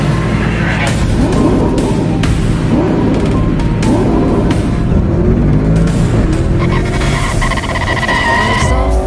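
Several motorcycles rev loudly and close by on a mountain trail at Mount Bitay, engines rising and falling in repeated throttle sweeps with harsh, gritty roars and occasional sharp bursts, continuous throughout.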